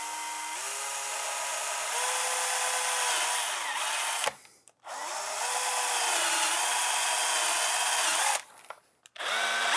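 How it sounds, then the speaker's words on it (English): A power drill with a step bit bores a hole through thin plastic toy parts for a threaded rod, whining steadily in two long runs separated by brief stops, loud and close. "First, we drill a hole for the all thread, and I have this step bit so that I don't mangle the thin plastic."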